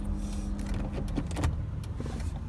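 Honda City car rolling forward on a steep road in first gear, with a low engine and drivetrain rumble overlaid by scattered clicks and mechanical rattles, close and moderately loud.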